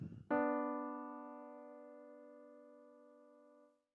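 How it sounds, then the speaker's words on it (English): A minor third interval sounds together after a brief rustle, the two struck tones ringing clearly and slowly decaying for several seconds before stopping. "Second interval is a minor third."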